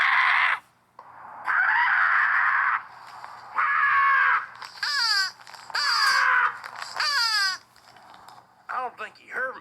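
A person imitates a bird call with a series of drawn-out, warbling squawks and short chirping bursts, loud and close, separated by brief pauses.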